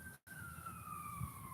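An emergency vehicle siren wails steadily with a slowly falling pitch as it passes, faint and distant over low traffic rumble, with no talking.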